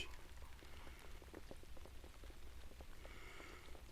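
Steady, faint rainfall with scattered drops pattering on a surface, continuous throughout.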